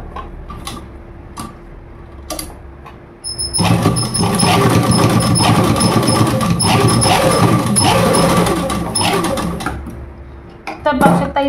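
An electric sewing machine stitches tucks into a katori-style blouse piece, its loud steady whirring and rapid ticking running continuously for several seconds after a few quieter clicks, then stopping abruptly.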